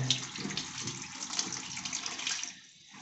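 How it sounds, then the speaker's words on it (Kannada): Water runs steadily into a toilet flush tank nearby after the supply is opened, a continuous hissing splash that eases off slightly toward the end. "ನೋಡಿ ನೀರು ಬೀಳೋಕ್ಕೆ ಶುರುವಾಗುತ್ತೆ."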